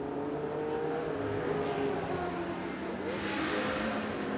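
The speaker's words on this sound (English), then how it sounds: "So he's going to be trying to hunt down the Ferrari 312P, which dives into the pits now" A Ferrari 312P race car drives into the pits at a historic endurance race, its engine a steady mid-distance drone with faint revving over constant ambient track noise.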